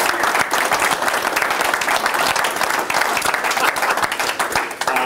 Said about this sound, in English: I just want everybody to give Rick a big round of applause for what he's done.